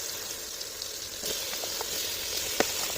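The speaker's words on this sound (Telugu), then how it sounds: "ఈ కూరను అంతా వేసుకొని మంచిగా ఫ్రై చేసుకుందాం" Chicken curry frying in oil with onion and tomato makes a continuous hissing sizzle, with occasional soft pops and stirring scrapes rising partway through, close and fairly loud.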